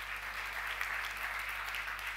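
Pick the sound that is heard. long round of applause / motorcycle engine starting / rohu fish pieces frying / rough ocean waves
long round of applause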